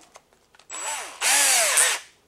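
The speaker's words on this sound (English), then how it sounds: "I cut the ends off, bundle them together. I bend the ends, and I insert it into a drill." A power drill spins a bundle of cut plastic zip ties, used as a brush for Audi Q7 intake valves: two loud whirring bursts rising and falling in pitch, each about a second long, after a few faint clicks.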